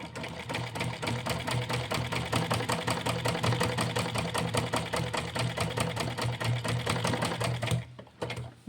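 Home sewing machine stitching a cotton wrestling langot, a steady rapid mechanical chatter running close and continuous for several seconds before stopping abruptly near the end, with no speech.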